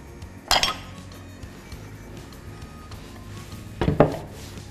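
A metal lid set onto a cooking pot during couscous preparation: two distinct clinks a few seconds apart, the second with a brief rattle, over a quiet background.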